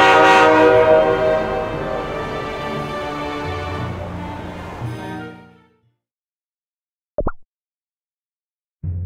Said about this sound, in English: Our train is departing.